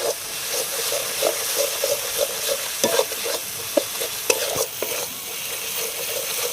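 A spoon stirs masala with shahi garam masala in a pan for a chicken curry, giving rhythmic scraping taps and occasional sharp knocks over a bright, steady sizzle.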